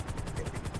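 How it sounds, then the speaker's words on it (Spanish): Helicopter rotor in the video game GTA V, a steady pulsing chop with a low rhythmic thump repeating several times a second, fairly loud and continuous with no voices. "Pero me he llevado el helicóptero."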